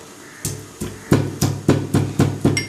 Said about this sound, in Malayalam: ചതയ്ക്കുന്ന സൗണ്ടാണ് കേൾക്കുന്നത്.